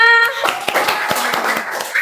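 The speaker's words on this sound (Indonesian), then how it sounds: "Tepuk tangannya mana?" Scattered classroom clapping for a student discussion group at an Indonesian school, a handful of sharp, uneven claps after a brief voice at the start.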